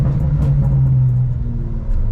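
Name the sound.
car engine arriving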